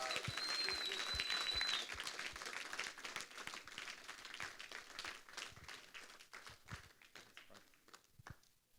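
Audience applause fills a room after a group leaves the stage, many hands clapping in a dense steady patter that gradually thins and fades out over several seconds.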